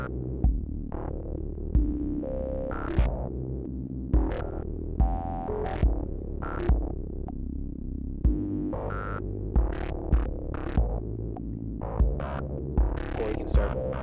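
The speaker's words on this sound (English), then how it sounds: "you can use the Rungler to make it a little more chaotic" An Epoch Benjolin synthesizer pushed into chaotic territory by its Rungler, producing a throbbing, pulsing drone with irregular accented hits and shifting pitched tones, steady and fairly loud with no voices.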